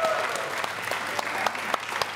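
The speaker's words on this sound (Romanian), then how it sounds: "Aplauze" A studio audience at a televised wheel-of-fortune game show breaks into loud, sustained applause, dense clapping continuing evenly through the clip with a few sharper individual claps standing out.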